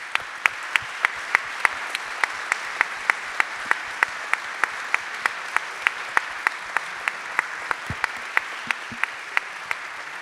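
Steady applause from an audience at a book presentation, continuous clapping with sharp individual claps standing out throughout, no voices.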